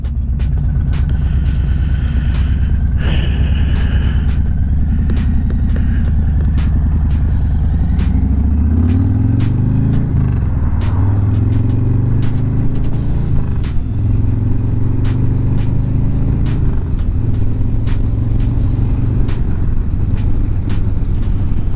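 Harley motorcycle cruising on an open road, a continuous engine drone with a rumbling low end that rises and falls in pitch through gear and throttle changes, steady and close with no talking.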